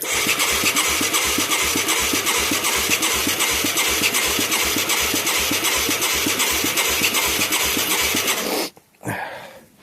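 The engine of a Yamaha YFM200 Moto 4 ATV cranks slowly, grinding with a steady, labored rhythm for several seconds before it abruptly stops, followed by a brief rustle.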